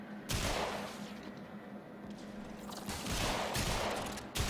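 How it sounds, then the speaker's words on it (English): Gunfire from Mesa's ability in Warframe during a solo sortie against Mutalist Alad V, a quiet burst of rapid shots followed by a second swell of firing, heard alone without talk. "Yep, we got 2 shots off on him."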